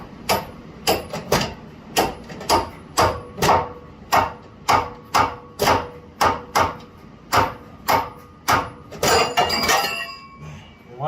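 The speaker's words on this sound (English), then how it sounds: "get your ball joint separator, get your hammer, and get ready to start whacking away here" Steady metallic hammer strikes on a ball joint separator during car suspension work, about twenty sharp clanking hits in an even rhythm, loud and close, with a quicker flurry of blows at the end.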